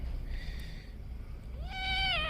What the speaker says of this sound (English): We got to get him to meow.